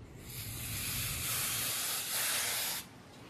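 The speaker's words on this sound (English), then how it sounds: "And then you just lightly spray your design." Spray paint mists lightly onto a sanded wooden board through a stencil, making a soft, steady hiss that swells briefly near the end, then cuts off, with nothing else heard.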